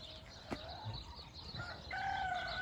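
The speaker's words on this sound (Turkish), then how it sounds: "Arkadaşlar bakın, bir tane Hint kırmamız." An Indian Game chicken in a garden tent coop gives faint clucking and crowing calls amid soft rustling, quiet and somewhat distant.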